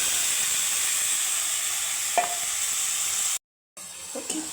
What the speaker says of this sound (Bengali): আমি ভেজে নেব খুব ভাজবো না এখানে